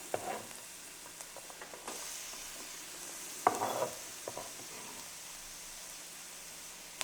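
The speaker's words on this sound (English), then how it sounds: "It's going to do a nice little sizzle." Chopped onions hit hot oil in a pan for spaghetti Bolognese, giving a soft, steady sizzle with occasional clicks and stirring scrapes, fairly quiet and close, with no talking.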